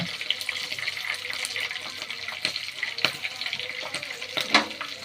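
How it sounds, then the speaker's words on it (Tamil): Garlic crackles and sizzles in hot oil with green chilies for a Chettinad fish curry, with scattered sharp pops and light stirring sounds close by; no talking. "பூண்டு சேர்த்து நல்லா வதக்கிக்கலாம்"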